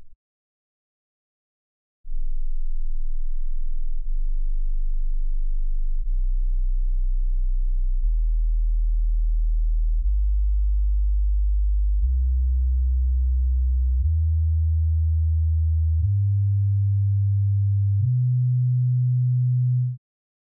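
Low-frequency sine wave test tones, each held for about two seconds and stepping upward in pitch one after another, pure and steady with no other sound.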